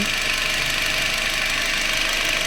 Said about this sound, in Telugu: వింటున్నారు కదా, చాలా సైలెంట్ ఉందన్న ఇంజన్ అనేది.